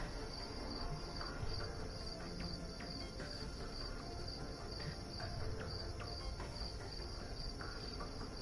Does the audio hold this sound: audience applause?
no